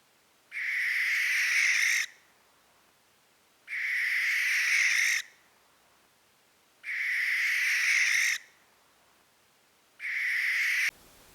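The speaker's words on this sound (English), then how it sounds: "you'll see a barn owl being disturbed by a magpie" A barn owl at its roost gives four long, harsh rasping screeches, each about one and a half seconds, separated by quiet pauses, loud and close with no talk.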